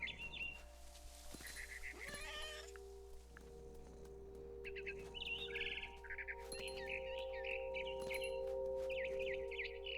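Bird chirps and tweets from the video game What Remains of Edith Finch, several short bright calls scattered over a steady low hum, faint and a little distant.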